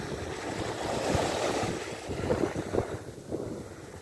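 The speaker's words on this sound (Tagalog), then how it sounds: "malakas ang alon" Strong surf rolls and breaks at Prasonisi beach on Rhodes, a steady wash of waves buffeted by gusting wind across the microphone, with no talk over it.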